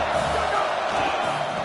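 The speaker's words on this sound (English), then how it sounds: "This crowd going to try to make life miserable for these guys" Roaring football stadium crowd noise, a dense continuous wall of cheering and yelling from a large home crowd, loud and steady throughout.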